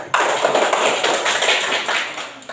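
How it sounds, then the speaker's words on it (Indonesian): A class of students claps for a classmate, a brisk, fairly loud burst of many hands starting abruptly and continuing evenly nearby, with no speech over it. "Tepuk tangan untuk Safira yang kuat"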